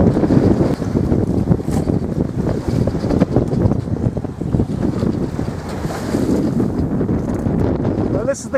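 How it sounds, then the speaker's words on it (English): Choppy sea slaps and wind gusts batter a sailboat out at sea, a dense, loud, steady roar of water and wind buffeting the microphone with no let-up. "this is the kind of waves we've got today and what we had last night"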